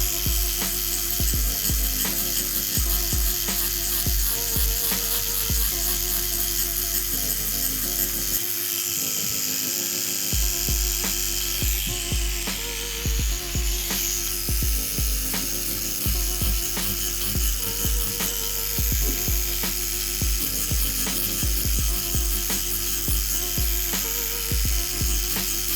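Tattoo machine shading and smoothing the background of a rose on a hand, a close, continuous buzzing whine with faint mechanical ticking, steady for the whole stretch with brief pauses and no talk.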